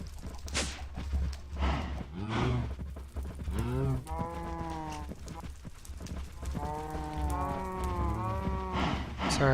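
A cow in the game Agrarian Skies moos repeatedly, long drawn-out lowing calls close by, with short gaps between them and a low background hum.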